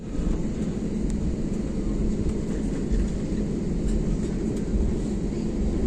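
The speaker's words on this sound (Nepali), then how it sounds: "ल उड्यो" An airliner takes off at Bangkok, heard from inside the cabin as a steady, loud, low roar of jet engines and rumbling with no break, and no one talking.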